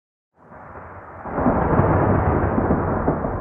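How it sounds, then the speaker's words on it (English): Deep thunder from an approaching storm in the Total War: Pharaoh trailer, opening from silence, then swelling into a heavy, sustained rumble that grows louder and stays alone without voices. "A storm approaches."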